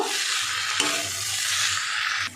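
Egg tadka is stirred in a hot pan, a continuous close sizzle with scraping stirring strokes throughout and no talking.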